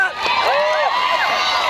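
A large rally crowd in Charlottesville, Virginia cheers and whoops to welcome Michelle Obama, a loud, sustained roar of many voices with shrill shouts rising over it throughout.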